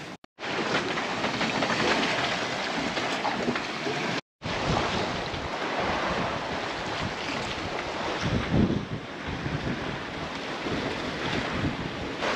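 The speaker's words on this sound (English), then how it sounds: "The waves are much less than yesterday" Steady rushing of waves and wind at sea around a sailboat on a solo passage to Trinidad, a continuous broad wash of water noise with gusts buffeting the microphone.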